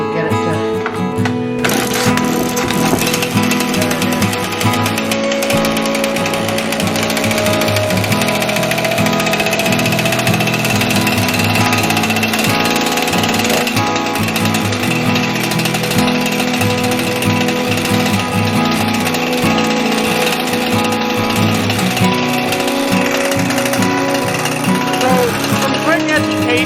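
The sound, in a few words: chainsaw engine starting and idling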